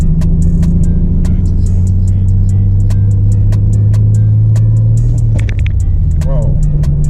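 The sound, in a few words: Nissan 300ZX engine backfiring while driving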